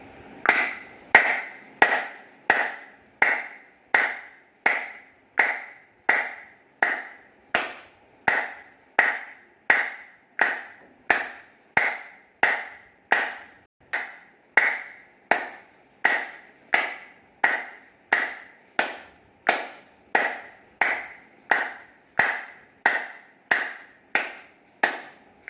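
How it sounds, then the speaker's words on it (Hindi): Hand clapping during a yoga session with hand acupressure exercises: about forty evenly spaced, sharp single claps at a steady count, each ringing briefly, with no talk over them. "हम 50 बार करेंगे, ताली बजाएंगे"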